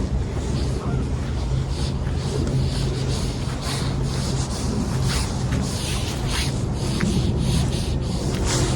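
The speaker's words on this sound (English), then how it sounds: "Yes, still windy." Strong gusting wind during a winter storm, a loud, steady broadband roar buffeting the microphone throughout, with low rumbling and no clear pauses.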